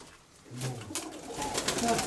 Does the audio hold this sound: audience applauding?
no